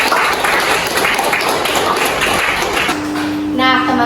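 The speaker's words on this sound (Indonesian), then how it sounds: "Beri tepuk tangan untuk Cindy." Classroom audience clapping for a student named Cindy, a dense steady wash of applause filling most of the stretch before tapering, with a teacher's voice and tonal sounds emerging near the end.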